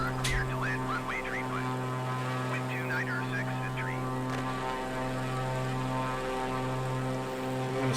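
A propeller plane engine in Microsoft Flight Simulator 2020 drones steadily on approach to landing at the bottom of Africa, a constant loud tonal hum with stable harmonics throughout, and faint voice-like sounds briefly over it.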